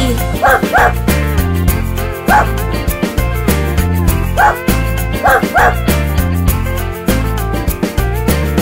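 Several playful barks and yips pop up over a loud, bouncy music track.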